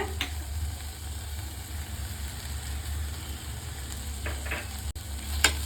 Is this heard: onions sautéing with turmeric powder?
yes